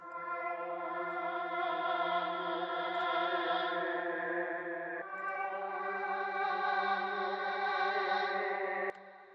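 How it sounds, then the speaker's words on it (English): A music beat being mixed with reverb added: sustained layered synth chords ring with a washy, echoing tail, shift to a new chord midway, then cut off near the end. "I'm gonna add a little reverb to it as well, just so we can kind of deflect some of that sound"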